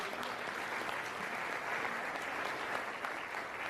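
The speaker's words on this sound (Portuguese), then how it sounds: "Você pode aplaudir o nome de Deus?" A church congregation applauds steadily and fairly faintly for several seconds, a dense wash of clapping from a crowd at some distance, with no voices standing out.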